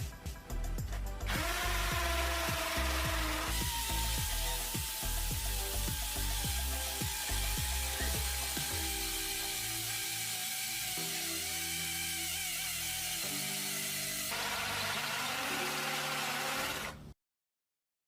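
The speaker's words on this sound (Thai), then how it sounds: "ทดสอบความเร็วในการเจาะปูนด้วยดอกขนาด 13 มิล" An Osuka cordless drill bores into concrete with a 13 mm bit in hammer mode, a loud sustained whine and grinding buzz that runs nearly unbroken before cutting off abruptly.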